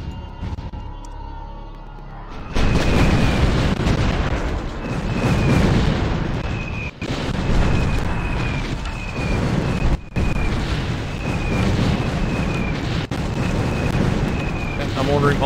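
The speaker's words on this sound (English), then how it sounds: "So we're gonna do our first airstrike against the barracks here." Airstrike explosions hitting barracks in the strategy game Supreme Ruler Ultimate, a sustained loud rumbling roar of blasts with repeated high whistles over it, and someone talking throughout.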